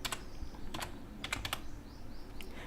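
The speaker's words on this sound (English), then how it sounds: "Type your calculator code" Typing on a computer keyboard while entering code into a notepad file, several separate bursts of crisp key clicks over a soft background hiss, close by and moderately quiet.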